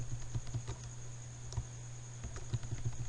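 Quiet, irregular clicking of keys as code is typed on a computer keyboard, light taps in small clusters over a steady electrical hum.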